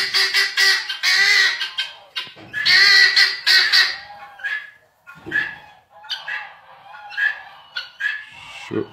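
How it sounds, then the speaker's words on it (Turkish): Guinea fowl call loudly in harsh, rapid, repeated cackling bursts, with brief pauses between the noisy outbursts. "Beç tavuğunun sesini de duymuş oluyorsunuz"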